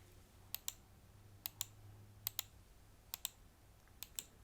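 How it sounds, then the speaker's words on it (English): Crisp, bulky ASMR clicks come in close pairs, five double clicks spaced evenly over a quiet, hushed background. "For example, we have the more bulky click."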